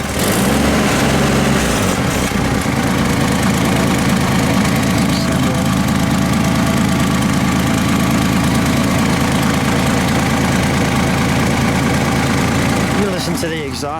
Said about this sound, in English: You listen to the exhaust note.